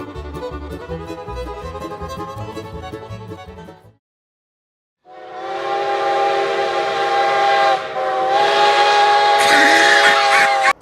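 A train on the Evanston sub sounds its horn: first a rumbling passage, then a brief silence before a long, loud sustained horn blast that swells and shifts, close and dominant.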